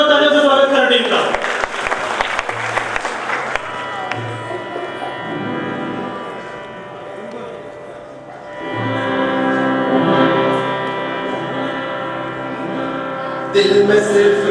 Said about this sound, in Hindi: एक बार फिर से जोरदार तालियों से स्वागत करें टीम का